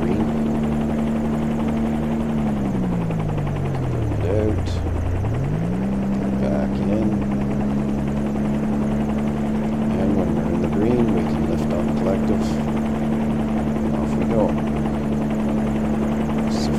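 A simulated helicopter in the X-Plane 11 flight simulator drones with a steady engine and rotor whine that sags in pitch briefly, then climbs back and holds as throttle comes up, loud and continuous throughout.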